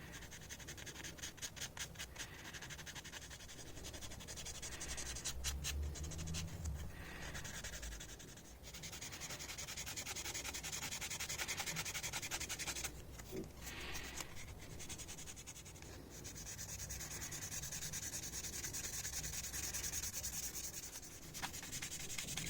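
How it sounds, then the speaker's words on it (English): A 500 grit sanding sponge is worked over the mold lines of a 1/24 Aoshima Liberty Walk Lamborghini Huracan model kit, a close, continuous scratchy rubbing in back-and-forth strokes with a few brief pauses. "for this job I shall be using a 500 sanding sponge."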